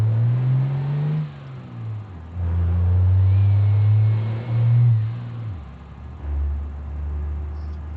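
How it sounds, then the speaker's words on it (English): A car engine in BeamNG drives revs up and settles in several loud, near surges, droning low and steady between rises, with no voices over it. "That is engine noises that's making that."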